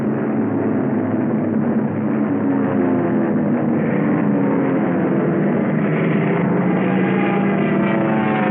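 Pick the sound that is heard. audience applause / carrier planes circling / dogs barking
carrier planes circling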